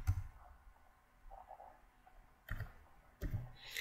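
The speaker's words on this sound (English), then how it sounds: "So I'll go ahead and click that and then type in this code in this box." Computer mouse clicks and keyboard typing while entering a code: a soft click at the start, then two short bursts of quiet, close keystrokes, with low hum between.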